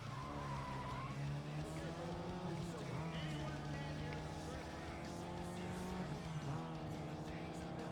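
Race car engine drone and tire squeal in Need for Speed ProStreet on PS2, a continuous revving whine with shifting pitch and skidding as the car steers hard through corners, with people talking over it.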